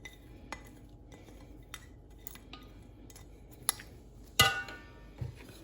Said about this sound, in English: With the spoon now, guys, just give it a mix